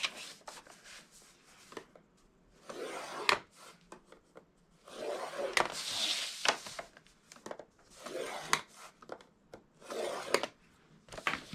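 Cardstock is scored along measured lines on all four sides to form a small card box, giving repeated soft rubbing and scraping strokes with light taps and handling in between, close and fairly quiet.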